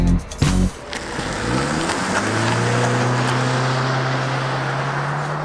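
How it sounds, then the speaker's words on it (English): A 2018 Honda Clarity plug-in hybrid drives along quietly, a steady low motor hum rising gently in pitch over road and tyre noise after a brief knock at the start. "since it's a plug-in hybrid, it's very quiet."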